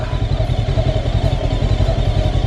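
Idling in first gear, a Gaokin Storr 500 motorcycle holds a rhythmic, even low thrum at close range, a faint clatter riding over the steady engine pulse.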